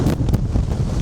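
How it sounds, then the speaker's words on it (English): Strong gusts buffet the microphone on Stanage Edge, a rocky gritstone escarpment, producing a steady, loud low rumble with surging pulses throughout. "It's getting windier. Really windy."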